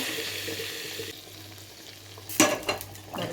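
Hot tempering is tipped into a pot of mixed-vegetable sambar, giving a sharp burst of sizzle near the end after a stretch of quiet simmering hiss.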